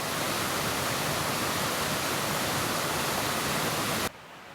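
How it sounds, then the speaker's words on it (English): A weir or waterfall on the River Tillingbourne roars as a loud, steady broadband rush of falling water, heard up close and alone until it cuts off abruptly near the end. "Interesting kind of weir or waterfall here."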